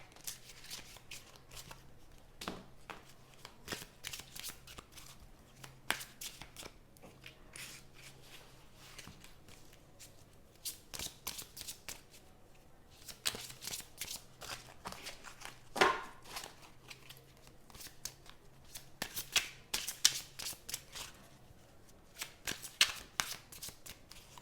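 Tarot cards are shuffled in a long run of crisp riffling and flicking bursts with short pauses between, close and fairly quiet, with no talking.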